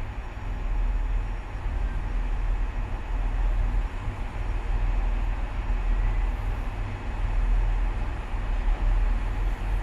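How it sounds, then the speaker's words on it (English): Southern Railway class 377 unit 377475 departing Redhill station, a low steady rumble and hum of the electric train moving off, fairly faint and continuous with no talk. "There it goes, 377475 Southern Railway."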